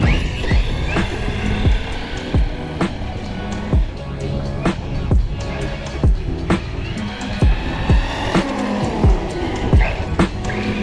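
A Team Corally Jambo RC car drives from grass onto asphalt, its small motor whining and surging in rapid bursts with tire scrubs and clicks, close and fairly loud throughout.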